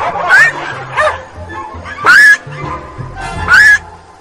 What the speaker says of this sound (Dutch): Hoor onze blaffen.